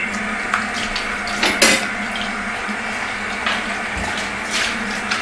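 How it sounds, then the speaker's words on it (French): Dishes are washed by hand, with pots and cutlery clinking and clattering in several sharp bursts over running water, nearby and without talk. "Je suis en train de faire la vaisselle."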